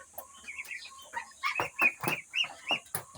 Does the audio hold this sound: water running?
no